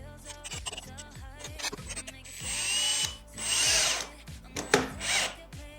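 A power drill drives a screw into a wooden block during fabrication of a custom compressor guard, with the motor whining in bursts that rise and fall in pitch, loud and close.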